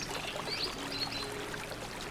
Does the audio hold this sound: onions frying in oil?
no